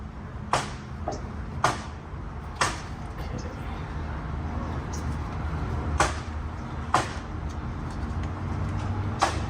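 Nail-gun or hammer strikes from house framing next door ring out as sharp, evenly spaced impacts about once every second or so, at a moderate distance over a steady low rumble of background noise.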